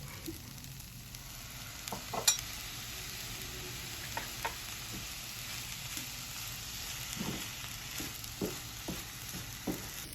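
Homemade fried rice with soy sauce stir-fries in a pan, a continuous near sizzle broken by repeated scraping and clacking strokes of a utensil against the pan.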